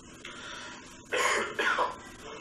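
A single harsh cough bursts out over a quiet background hiss, following a faint tone, then a second shorter cough fades away.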